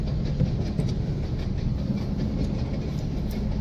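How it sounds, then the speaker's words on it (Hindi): A train running along a railway track through a forest, a continuous loud rumble with rolling clatter of wagons, close by and steady throughout, with no talk. "ये जंगल में पटरी है ट्रेन की और ये ट्रेन जा रही है।"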